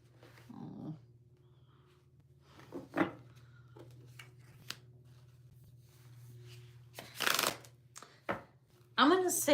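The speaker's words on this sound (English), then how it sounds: "let's shuffle one more time" Playing cards are shuffled in a few quick riffling bursts between pauses, close by, with a faint steady hum underneath.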